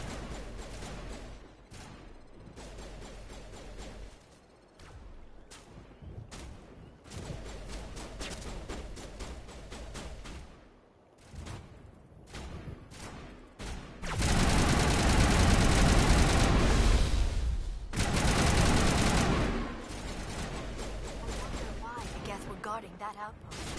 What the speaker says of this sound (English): Manovai is under coordinated crossfire.